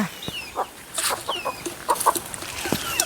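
Country chickens and a rooster on a farm cluck and call in scattered, fairly close bursts over a steady outdoor background, with no one talking.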